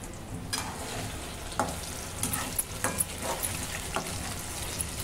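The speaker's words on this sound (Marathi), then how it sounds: "मीडियम मध्ये त्याला तेलात शिजून घ्या" Chicken 65 pieces frying in hot oil over medium heat, a steady close crackling sizzle with scattered sharper pops and stirring clinks throughout.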